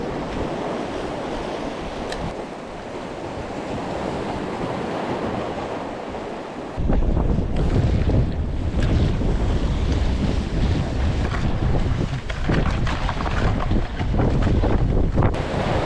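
Rough sea breaking on the shore during a storm surge, with steady wind buffeting the microphone; the surf grows noticeably louder and heavier about halfway through, roaring continuously without any voices.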